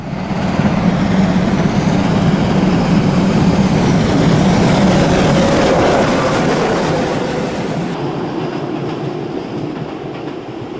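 Steam locomotive 052 75 96 on a 2013 Black Forest steam run between Wolfach and Hausach, passing with a loud, continuous rumble and rolling clatter of wagons that eases slightly toward the end.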